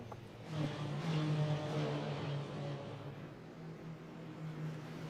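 Cupra Leon race cars at speed on the Macau street circuit, engines droning and revving steadily with a rising whir as they pass, fairly loud and continuous throughout.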